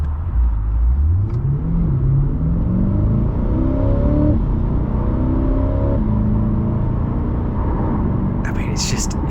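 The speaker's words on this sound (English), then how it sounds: "Let me show you 0 to 60 one more time." A 2020 Chevrolet Corvette C8 3LT Z51 accelerates hard from a standstill toward 60 mph, its engine note climbing steadily through several rising sweeps with brief drops at gear changes, loud and continuous from inside the car.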